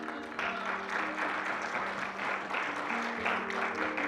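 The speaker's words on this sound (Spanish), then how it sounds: "Denle fuerte aplauso al Señor" Congregation applauding in church, a sustained crowd of clapping over held organ or keyboard notes, steady and fairly loud for the whole stretch.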